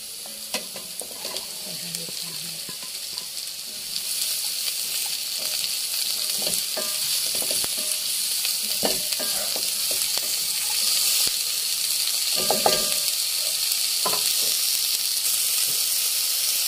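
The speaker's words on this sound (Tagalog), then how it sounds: "At ilalagay na natin yung ating singkamas at carrots." Jicama and carrots sizzle and get stirred in a hot pan for a sweet and sour maya-maya fish dish, with a steady close frying hiss and scattered scraping clicks of a utensil throughout.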